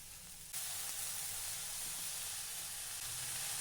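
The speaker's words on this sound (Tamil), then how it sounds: "வெங்காயம் வதங்கும் போது 4 பல் பூண்டு தட்டி அதில் போட்டு வதக்கணும்" Onions with four crushed garlic cloves sizzle in a pan for a banana flower stir-fry, a steady broadband hiss of frying that swells abruptly after a quiet moment and holds evenly close by, with no voices.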